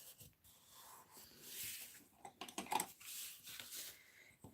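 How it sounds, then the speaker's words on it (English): A paper card base is folded and burnished, producing soft, close scraping and rubbing strokes with faint crinkles, quiet and uneven over several seconds. "I'm going to fold and burnish my card base."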